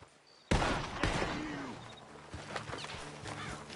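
Gunfire in the Red Dead Redemption video game: two sharp, loud shots in quick succession, each followed by a rolling echo that fades under quieter background noise.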